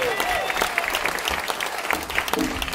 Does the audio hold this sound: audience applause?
yes